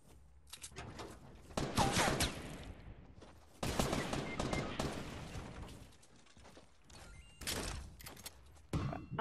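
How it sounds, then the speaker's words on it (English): Bursts of rapid gunfire in a Fortnite Battle Royale 50v50 match, several loud volleys of shots separated by brief lulls, with a faint voice in between. "This guy's shooting us."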